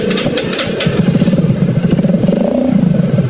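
A Skygo Prince 125 motorcycle engine runs close by, first idling and then revving in quick pulsing bursts.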